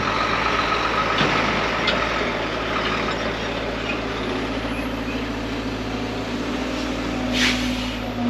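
Dump trucks idle at a pond dirt-loading site with a constant loud diesel rumble throughout the stretch, and the engine note rises briefly near the end, with no talk.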